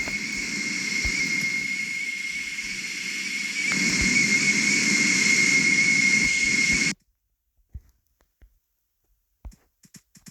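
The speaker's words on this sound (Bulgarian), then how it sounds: "Ще сложа изтребител." A fighter jet engine in a video game gives a loud, steady roaring whine with a sustained high tone, swelling partway through before cutting off abruptly, followed by a few faint clicks in near silence.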